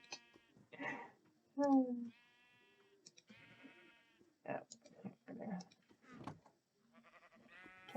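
Sheep in the Minecraft video game bleat in a few short, clear bursts, interspersed with someone talking quietly over sparse game clicks.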